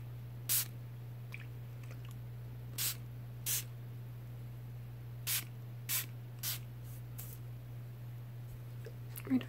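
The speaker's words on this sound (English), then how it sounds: "I don't want to spray too much because then I'll end up getting a headache." A mini perfume bottle is sprayed in several short, crisp hissing bursts spaced irregularly, heard close against a quiet background hum with no talking.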